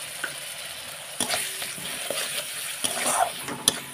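Water-mixed cumin and coriander paste tipped into hot oil for a chital fish curry, a faint steady sizzle broken by sharp bursts of spattering and clinks of stirring.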